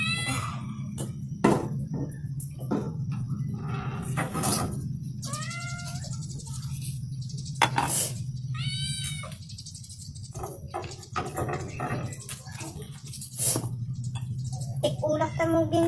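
A cat meows repeatedly, drawn-out mewing calls over a steady low hum, with people talking intermittently in the background.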